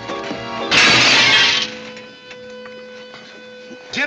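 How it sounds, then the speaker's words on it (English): Glass looking glass smashing in a frontier-era Western scene, a loud crash-and-shatter burst that rings out over a second, then fades into lingering tinkling and hum before a brief noise at the end. "You busted Lily's looking glass"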